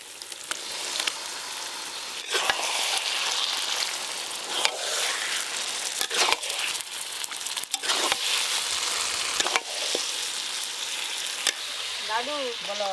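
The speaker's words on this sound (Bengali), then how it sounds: "মশলা মাখানো খাসি মাংস দিয়ে দেবো এবার।" Spice-marinated goat meat sizzles and crackles steadily as it fries in hot oil, a close, continuous hiss broken by occasional stirring scrapes; a brief voice-like whine near the end.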